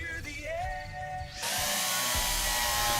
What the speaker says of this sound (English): so let's get the drill